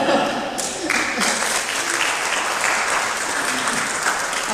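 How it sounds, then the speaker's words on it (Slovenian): Audience at a panel discussion applauding steadily, dense clapping from a room full of people, sustained and fairly loud throughout with no break. "Aplavz ste dobili"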